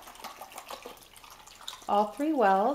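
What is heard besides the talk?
water poured from bottle into paint wells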